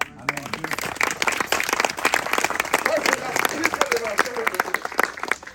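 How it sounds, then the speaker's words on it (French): A church congregation at a French gathering applauds loudly and steadily, with voices calling out and a preacher speaking over the clapping. "Applaudissez pour la parole de Dieu."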